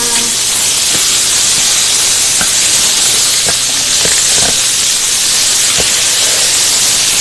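Bone-in pork chops sear in a hot pan with a steady, loud broadband hiss and sizzle that fills the whole stretch, broken by a few faint pops and clicks, with no talking.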